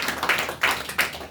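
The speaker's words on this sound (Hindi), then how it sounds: "हम इसहाक के लिए ताली मारते हैं।" A church congregation claps in a few quick bursts of hand claps, close and fairly loud with an uneven rhythm, with no talking over it.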